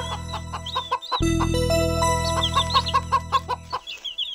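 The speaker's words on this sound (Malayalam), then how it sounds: "അതാ കോഴിയമ്മ കുഞ്ഞുങ്ങളും ഉണ്ടല്ലോ" A cartoon mother hen with her chicks gives a run of short, bright clucks, loud and close, over a steady low drone.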